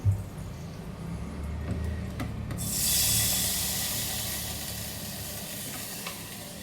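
Water poured into a frying vegetable curry in hot oil sets off a loud, steady sizzle with steamy hissing that rises after a few seconds and holds, close and continuous with no voices.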